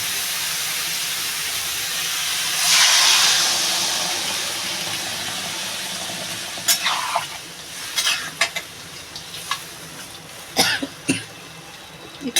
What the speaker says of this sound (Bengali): আমি এবার জল ঢেলে দেবো